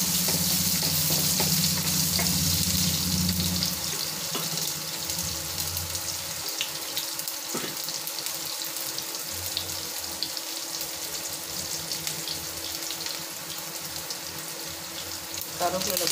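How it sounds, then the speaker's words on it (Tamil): Mustard seeds and onions fry in hot oil, a loud, steady close-up sizzle and crackle that runs through the whole stretch, with a few clinks along the way. "கடுகு பொரிச்சு வெங்காயம் போட்டுடலாம்."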